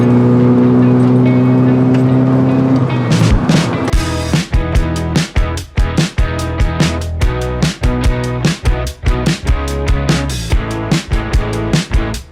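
A lowered Chevy S-10 truck is floored up a hill in third gear on a 100-degree day: a steady droning engine tone gives way to loud, rough, rhythmic thumping and rattling bursts that continue to the end.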